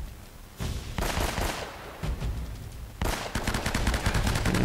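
Gunfire rattles through a firefight in Uncharted: Drake's Fortune: rapid automatic bursts and sharp single shots, loud and dense, with short gaps between volleys and no voices heard.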